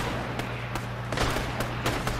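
Rapid gunfire in Fortnite, a string of sharp shots cracking out in quick succession over about two seconds, loud and close.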